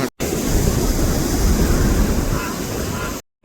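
Loud rushing sea surf and wind roar continuously on a Jaffna shore, waves churning close by, with blustery wind buffeting the microphone; cuts to silence at the start and end.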